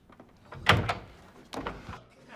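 A door opens or closes indoors in a family home during a romantic comedy scene, with two nearby knocks or bumps of moderate loudness and no talk over them.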